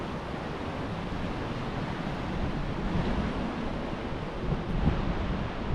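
Water pours steadily down a waterfall in the Norwegian fjords, making a continuous broadband rushing roar that stays dense and even throughout, with no talk over it.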